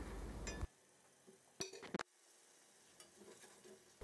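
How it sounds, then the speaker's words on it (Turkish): A spoon clinks and scrapes in a pot, stirring pepper paste and tomato juice while it sautés for a red lentil soup, a few close sharp knocks with quiet gaps and faint sizzling between them. "3-4 yemek kaşığı da domates suyu ekliyorum ve kavurarak kokusu çıkana kadar karıştırıyorum"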